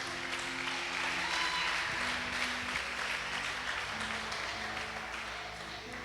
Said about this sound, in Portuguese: Agora sim, aplauda Ele.